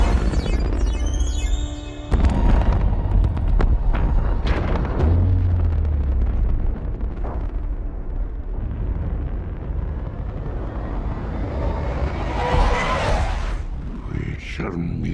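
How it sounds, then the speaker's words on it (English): Grenade explosion in a Transformers action film, heavy booming blasts and crashing debris rolling on loudly with movie soundtrack and voices mixed in. "I'm setting off Lockdown's grenade."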